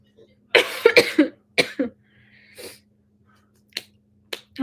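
A person coughs after eating too much chili powder: a cluster of harsh, close coughs early on, then a couple of shorter single coughs, with quiet gaps between.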